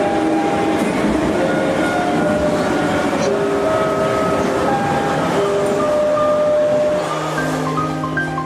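A Baku metro train pulls into Sahil station, a loud rumbling rush of wheels and carriages with tonal squeals and hums that settle as it slows to a stop at the end.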